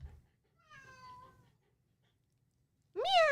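Cat meowing indoors: a faint drawn-out meow early on, then a short pause before a louder, rising-and-falling meow at the end, close by in a quiet room.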